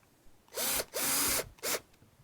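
Screws are driven in with a power driver while a Kwikset SmartKey knob is installed: three close, loud whirring bursts with a falling pitch, the middle one longest, separated by brief pauses.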